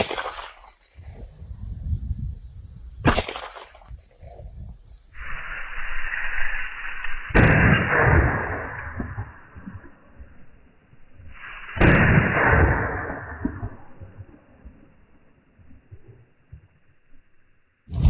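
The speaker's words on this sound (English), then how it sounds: "Shooting the Kimber 9mm," Two loud gunshots from a Kimber 9mm pistol fired into pork ribs, each a sharp crack followed by a long ringing decay, set several seconds apart.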